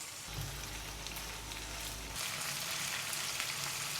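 Shrimp frying in a pan for a curry crackle and sizzle steadily, close and fairly soft, with a low hum that cuts out partway through.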